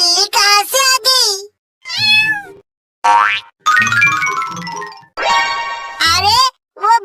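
A cartoon cat meows while running off with a milk packet, its cries mixed with loud springy boing effects and chiming jingles in quick, choppy bursts close up.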